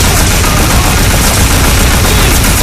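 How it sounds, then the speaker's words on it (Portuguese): Dense, continuous gunfire fills the action game Scarface: The World Is Yours, a loud, unbroken barrage of rapid automatic shots with no pauses across nearly three seconds. "esse daqui é tiro pra tudo quanto é lado, é o Scarface The World Is Yours"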